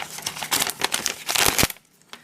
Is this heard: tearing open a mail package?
yes